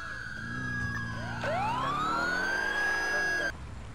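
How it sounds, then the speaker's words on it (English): Police sirens wail in the video game GTA IV, several overlapping rising and falling tones sounding loud and close for a few seconds before cutting off abruptly. "I can't take those sirens anymore"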